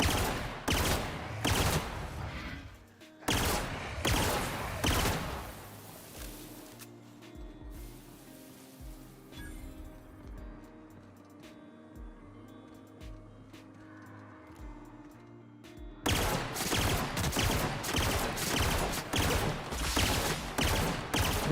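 Gunfire in the video game The Outer Worlds comes in rapid bursts of shots, first in two volleys, then after a long quieter stretch of low ambient hum, in a final sustained barrage.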